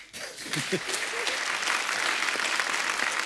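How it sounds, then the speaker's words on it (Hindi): Studio audience applause on a Hindi television comedy talk show, starting after a brief voice and holding steady as dense, even clapping for about three seconds. "एक बार रणबीर कपूर के लिए जोरदार तालियां हो जाए।"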